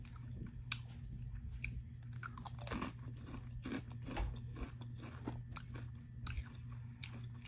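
Flamin' Hot cheddar and sour cream Ruffles potato chips are crunched and chewed close to the mic, a series of sharp irregular crunches over quiet background with no talking.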